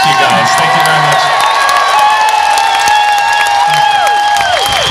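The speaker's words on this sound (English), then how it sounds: "Big round of applause, Jenson Button." Crowd at a Silverstone 2013 after-race party cheering and applauding racing driver Jenson Button, a loud continuous roar with whoops and shouts, some voices audible within it.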